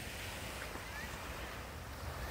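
Night surf rolls onto the beach at Haeundae in Busan as a faint, even wash of broadband noise, steady and distant with some wind rumble and no voices.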